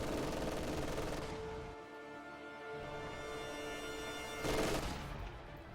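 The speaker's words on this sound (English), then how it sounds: "MG42 firing on these assault grenadiers" An MG42 machine gun fires in a WWII strategy video game. A loud burst rattles out at the start, fades into a quieter lull, then a second short burst comes near the end.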